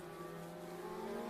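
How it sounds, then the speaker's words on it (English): Legends race cars exiting turn four at Tucson Speedway during NASCAR weekly racing, engines firing off in a sustained, droning roar with steady tones, heard from a distance and without talk. "And here come those legends out of the turn 4 corner, firing off those engines."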